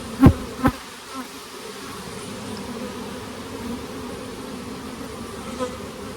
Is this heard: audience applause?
no